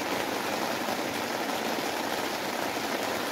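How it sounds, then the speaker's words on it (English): Heavy rain hammering down in a steady, dense, loud hiss of countless drops, unbroken and close. "the rain is literally hammering"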